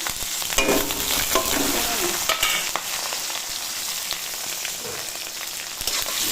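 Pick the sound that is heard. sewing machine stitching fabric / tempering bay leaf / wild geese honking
tempering bay leaf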